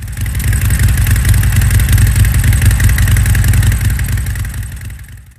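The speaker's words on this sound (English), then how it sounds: "He pulls up to the church on his fat tire chopper, with long 45-degree raked forks" A fat tire chopper motorcycle with long raked forks pulls up, its engine chugging in a loud, close, throbbing idle that fades out at the end.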